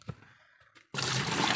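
Water is poured in to check for a leak underneath: a few faint knocks and small splashes, then a sudden loud, steady gush of pouring water that runs to the end.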